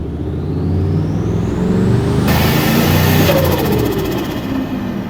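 Turbocharged Chevrolet Silverado truck engine revving loud and close through a 3-inch test intake, a steady throaty roar with rising turbo whine and a sharp hissing rush of air partway through.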